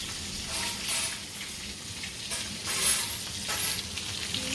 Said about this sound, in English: They're still frying.